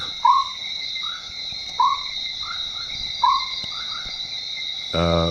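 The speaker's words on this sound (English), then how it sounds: "absolutely dominated by the sound of the mountain chicken" Repeated loud, whooping calls of a mountain chicken frog ring out every second or so against a steady background of high insect trills, close and prominent.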